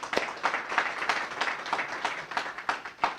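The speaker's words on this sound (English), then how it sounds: "I'd like to give you guys a round of applause for that" Applause from attendees at an annual award lecture, a dense patter of many hands clapping steadily at moderate volume for a few seconds, with no voices over it.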